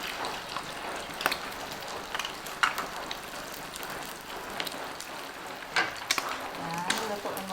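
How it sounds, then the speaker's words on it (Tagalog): Two eggs fry in a pan for fried rice, a soft steady sizzle with scattered crackles and pops, fairly quiet, with occasional faint talk in the background. "Lutuin muna natin yung ating itlog"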